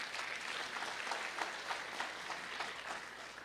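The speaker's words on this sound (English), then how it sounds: "he deserves a big round of applause" A crowd applauds at a meet-and-greet event in the Bay Area, steady distant-sounding clapping throughout, fairly soft overall.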